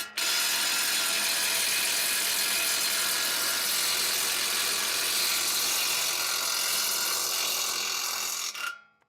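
An impact wrench loosens the 19 mm brake caliper bolts on a 2005-2010 Honda Odyssey, one loud, sustained whirring and rattling run up close that lasts nearly the whole time before cutting off abruptly.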